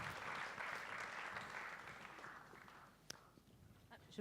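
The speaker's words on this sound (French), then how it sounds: "On peut les applaudir très fort" An audience applauds jury members at a festival awards ceremony, a dense wash of clapping that is loud at first and thins out toward the end, with a few scattered claps left over.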